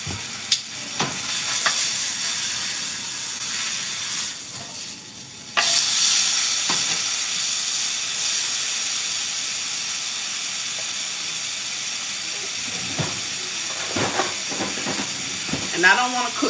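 T-bone steaks sizzle in a big frying pan with a steady, loud hiss. It jumps sharply partway through as more meat hits the hot surface, and a few clicks and knocks of handling sound over it.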